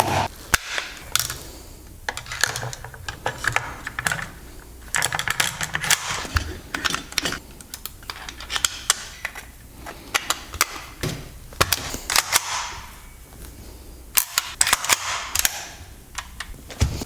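A GHK AKM gas blowback airsoft rifle being reassembled: sharp metallic clicks, snaps and sliding rattles of parts fitting together, close and irregular, in bursts with short pauses over seventeen seconds, no talk.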